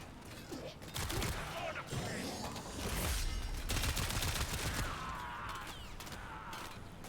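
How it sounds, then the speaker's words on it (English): Echoing gunshot-like bursts and rattling mechanical clatter from a video game Archon hunt, loud and sustained throughout with reverberant tails. "it sounds like gunshots bouncing around the place"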